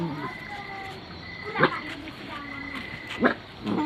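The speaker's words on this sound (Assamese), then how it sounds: "কুকুৰবিলাক যে এনেকৈ পূৰা খেলি কিবা একদম কামুৰি জপি লাগিছে" Dogs play and bite at each other nearby, letting out a few short sharp yelps or growls between stretches of steady background noise.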